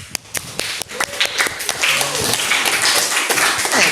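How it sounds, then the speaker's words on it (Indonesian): Classroom applause breaking out as students clap together, starting with a few sharp claps and swelling into steady, dense clapping that continues to the end. "Aplaus."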